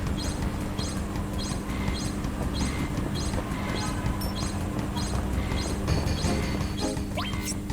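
A train rolling along in the Final Fantasy VII video game: steady, loud rumble with regular clickety-clack wheel beats repeating about every half second, and a brief metallic squeal near the end.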